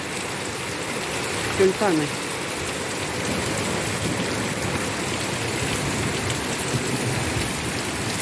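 Steady rain falls in still air over a garden of plants and flowers, a dense even hiss throughout, with a brief word spoken near the start.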